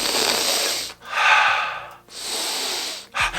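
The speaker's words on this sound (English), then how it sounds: "either in through the nose, out through the mouth" Deep breaths during a calming breathing exercise, drawn in through the nose and pushed out through the mouth, three long airy breaths close up and loud, with no speech.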